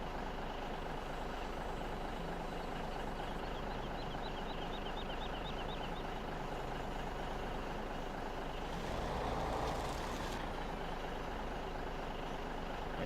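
Truck engine pulling trailers away in the video game Farming Simulator 17, a steady loud rumbling drone with a faint chirp of reversing beeps and a brief hiss midway, continuous and without talk.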